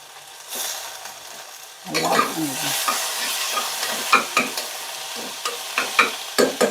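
Tomatoes hit a hot pan for Tamil mutton varuval: a quiet sizzle, then a louder burst of frying followed by repeated scraping stirs of a spatula against the pan, close up and without talking.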